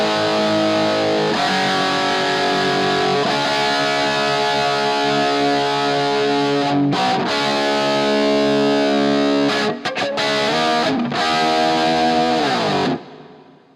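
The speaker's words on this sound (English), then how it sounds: "I'm going to mute the reverb track, and we'll listen to what it sounds like kind of dry" A dry, heavily distorted electronic music track with no reverb plays loudly and continuously, chords shifting every few seconds with brief dropouts before stopping near the end.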